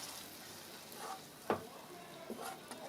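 Tamarind water goes into sautéed brinjal in a pan for a karakuzhambu and is stirred in: a quiet sizzle with a sharp scrape partway through and a few softer stirring sounds after it.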